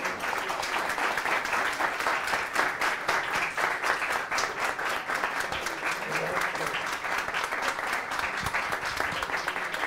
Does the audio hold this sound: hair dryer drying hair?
no